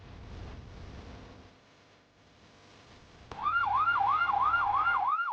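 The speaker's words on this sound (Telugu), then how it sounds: "సైరన్ ఆన్ చేసి పోనీరా." An ambulance siren on the way to a heart attack case switches on after a quiet stretch of background noise, then wails loud and close in a fast rising-and-falling warble.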